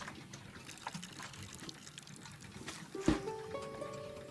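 Water pours and trickles into a potted windmill wart plant set in a saucer of soil in the game Botany Manor, a soft, close, continuous splashing that swells briefly near the end with a bright chime-like tone, no talking.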